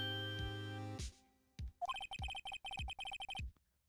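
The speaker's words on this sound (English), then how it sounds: "my phone's probably gonna go off in a minute." A phone ringtone plays after a sustained tone cuts off, a rapid run of bright electronic beeps in a steady pulsing pattern, clear and close.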